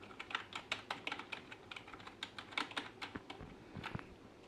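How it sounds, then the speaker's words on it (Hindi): Rapid, light keystrokes on an HP K300 gaming keyboard, pressed gently in an irregular patter of close clicks that runs throughout without speech. "मैं धीरे प्रेस कर रहा हूँ कीबोर्ड को"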